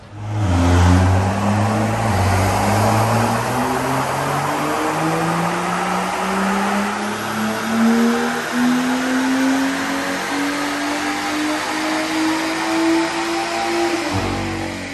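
A car with an F-series turbo engine revs hard on a dyno through several loud baseline pulls, the exhaust note climbing steadily in pitch and droning continuously for the whole stretch before cutting off at the end.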